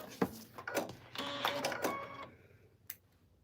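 A sewing machine stitches fabric in short, quiet mechanical bursts with a whirring, clicking rhythm that stops and starts, in an indoor setting.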